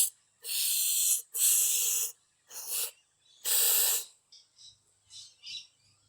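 Clear coat spray paint from an aerosol can is sprayed into a handlebar grip in several hissing bursts, two long, one short, then a longer one, followed by a few faint short puffs.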